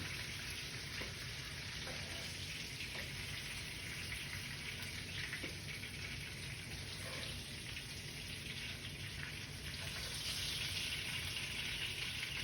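Burger patties sizzle and fry steadily in a hot pan, a constant close crackling hiss with small pops throughout, no talking.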